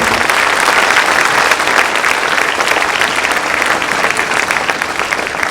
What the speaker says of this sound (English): So let's give a round of applause to class 7 for putting this together.